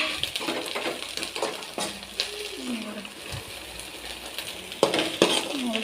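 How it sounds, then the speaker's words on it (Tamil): Egg noodles fry in a pan, with sizzling hiss under scattered metallic scrapes and clinks of a utensil stirring against the pan, close and moderately loud. "நல்லா ஃப்ரை ஆகிட்டே இருக்குது."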